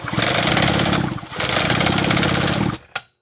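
Custom-built Echo CS9300 chainsaw engine running loud and close, a harsh buzzing drone with a brief dip near the middle, then cutting off abruptly with one final sputter.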